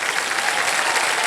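A studio audience on the KBC Season 17 quiz show applauds a contestant who quits the game. The clapping is dense and steady, with no speech.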